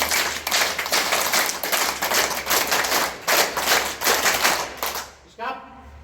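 A school audience claps in a steady, dense burst of applause for about five seconds, then it stops abruptly, leaving a short trailing sound.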